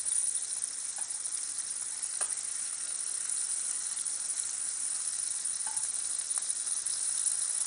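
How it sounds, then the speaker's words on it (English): Lamb chops sear in vegetable oil in a pan, giving an even, close hiss of sizzling fat that runs unbroken throughout with a few faint pops. "We're just gonna drop the lamb on in. Let it get a nice sear going, build up a nice crust."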